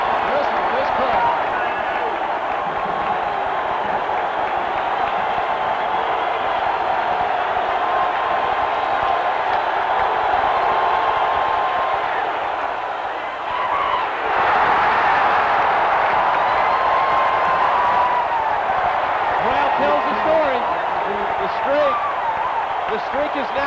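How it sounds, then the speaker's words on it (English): A packed football stadium crowd roars throughout an LSU vs Alabama game in 1990, a loud sustained wall of cheering that swells after a brief dip, with a commentator talking over it. "Listen to this crowd."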